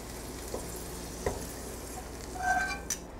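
Onions deglazed with water are poured over lamb cubes in a frying pan for a tajine, setting off a steady sizzle with soft clinks and a brief rise in hissing toward the end.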